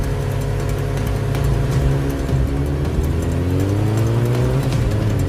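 KTM motorbikes racing in a Bengali cartoon, engines droning loud and continuous with rising and falling revving pitch as the bikes speed along together.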